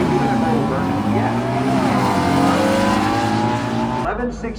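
Drag race cars, including a Volkswagen at a Las Vegas Motor Speedway drag event, roar down the strip with loud rising engine tones and tire noise, the sound sweeping past and fading; voices talk over it.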